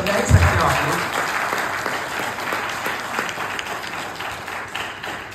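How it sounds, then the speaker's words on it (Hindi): An audience claps loudly together, a dense burst of applause that carries on steadily for several seconds. "अपने लिए तो तालियां बढ़िया तरीके से बजा ही सकते हो आप लोग।"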